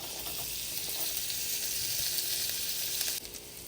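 Shallots and garlic sizzling in half a stick of butter in a skillet, a loud steady fry hiss that runs unbroken and drops off abruptly near the end, with no talking.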